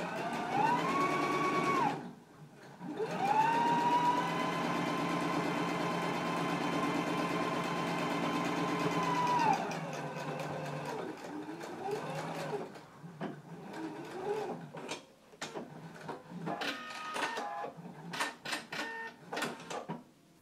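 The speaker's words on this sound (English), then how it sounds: "I'm going to top stitch right along this inner edge" A sewing machine top stitching along the inner pressed edge of a pocket, a steady whirring motor hum running for several seconds between short starts and stops, then a series of brief bursts and clicks, close and without talk.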